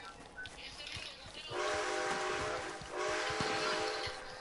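Train in a video game rolling past with a hollow rumble and a horn-like tonal blast that sounds twice in overlapping waves, while a player's voice is faintly heard underneath.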